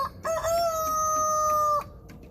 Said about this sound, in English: Sounds like there's some commotion in the hen house